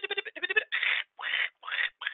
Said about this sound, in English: Probably half the people, at least on this call, know that mockingbirds can sing other bird songs.